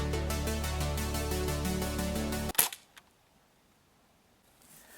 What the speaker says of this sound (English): I'm going to try to get him with the BB gun